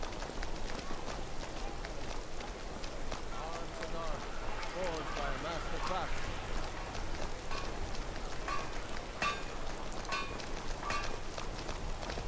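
Steady rain patters down in the video game Skyrim, a constant soft hiss of drops on surfaces, with a voice talking over it.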